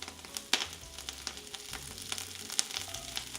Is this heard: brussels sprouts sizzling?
yes